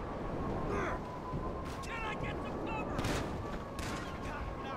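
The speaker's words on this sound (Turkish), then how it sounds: "Abi arkamdan biri vuruyor ya." GTA gunfire hitting a player from behind: several sharp, fairly quiet shot cracks spaced a second or so apart over a low, busy game background.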